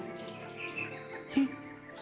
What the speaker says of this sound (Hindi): इन सारे पक्षियों को देखो